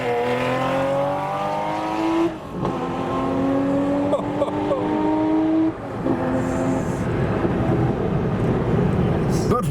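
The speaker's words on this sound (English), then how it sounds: "now we're going to get some flybys" A Nissan Skyline R33 in a flyby, its engine note rising and falling through several gear changes, loud and fairly close, with rushing road and wind noise throughout.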